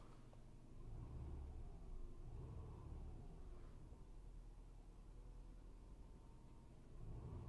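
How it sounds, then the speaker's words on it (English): A 2006 Subaru Legacy GT makes a steady low rumbling, swishing drivetrain noise from the transmission, continuous and moderately loud throughout, with no talking. "like a swishing noise coming from the transmission"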